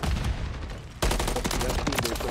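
Rapid automatic gunfire from the video game Modern Warfare 3 fills the short stretch in dense bursts, loud and close, with a sharp new burst about halfway through.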